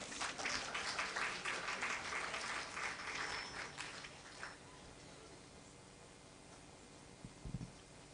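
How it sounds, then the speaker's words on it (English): A crowd at the Women's Economic Forum Kenya 2023 claps steadily for several seconds, then the applause fades out, leaving quiet room noise. "Yes, you can clap for Daisy as she comes"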